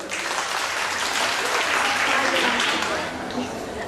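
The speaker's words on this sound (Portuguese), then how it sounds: "Palmas para a Isabela." An I EMCINE audience applauds Isabela with a full, even roar of clapping that swells slightly in the middle and holds for nearly four seconds, voices faintly mixed in.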